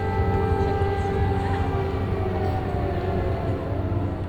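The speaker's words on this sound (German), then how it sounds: "Gerade ist Luftalarm, wie so oft." An air raid siren sounds across Lviv in western Ukraine, a steady, continuous wail with sustained tonal layers filling the air for the full stretch, fairly loud and without any voices.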